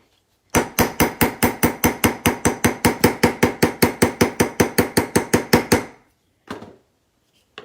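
A hammer strikes a metal cuff bracelet in a rapid, even run of about twenty-five sharp, ringing blows, then one last lone tap after a short pause.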